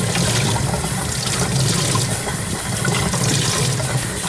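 Running water rinses a foam aquarium filter sponge during a freshwater tank water change, a steady close splashing wash with no pauses.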